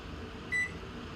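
A grill microwave oven, set to combination cooking, lets out one short electronic beep over a faint steady room hum.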